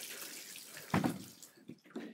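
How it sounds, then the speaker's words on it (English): Water trickling and splashing as it leaks out of a Coleman Xtreme cooler, a short uneven spill with soft bursts, close by. "this thing is just leaking water"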